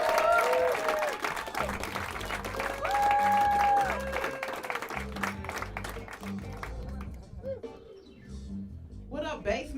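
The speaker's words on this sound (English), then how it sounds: "Everyone, please start clapping now for Mo Good, everybody." Crowd applause fills a Chicago stand-up comedy show, sustained clapping with scattered whoops while a host speaks over it through the first half, then thins toward the end.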